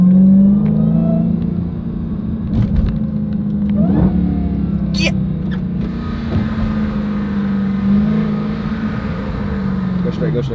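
A car engine hums and revs at close range in a steady, droning tone that rises slightly at moments, with occasional knocks and voices heard faintly over it.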